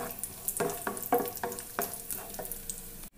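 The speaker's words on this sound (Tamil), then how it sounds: "இது கூடவே கொஞ்சமாக உலர் திராட்சை சேர்த்துக்கலாம். அதையும் சேர்த்து கொஞ்ச நேரம் நல்லா வதக்கி விட்டுடலாம்." Cashews and raisins sautéed in ghee in a pan, a close crackling sizzle broken by several spatula scrapes and knocks against the metal, ending in a brief sudden cut.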